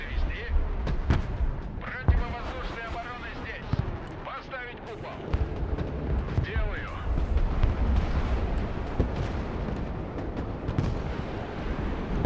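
Artillery fires repeatedly in the real-time strategy game Broken Arrow, deep booming blasts and rumbling impacts under a dense wash of battle noise while players talk over it.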